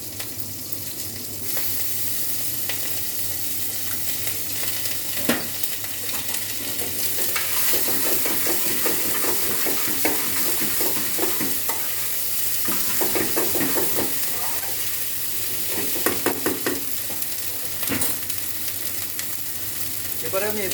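Potato and cauliflower pieces fry in hot oil as ginger garlic paste is stirred in, producing a loud continuous sizzle broken by repeated spoon scrapes and clatter against the pan, with no voices.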